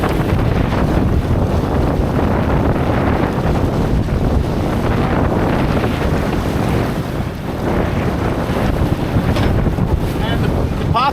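Pathfinder sailing dinghy sailing flat in strong wind of about 20 to 22 knots, with roaring wind buffeting the microphone, water rushing along the hull and waves splashing, loud and continuous with no talk heard.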